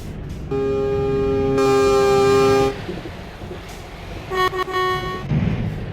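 Loud, sustained truck air horns blare close by in Euro Truck Simulator 2, one long blast followed by several shorter stuttering honks over a rumbling engine.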